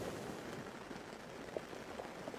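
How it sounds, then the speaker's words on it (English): Steady rain falls on tent canvas overhead, a soft, even patter with faint scattered drops, quiet and continuous without a break. "listening to the steady, rhythmic sound of rain falling on the canvas above you"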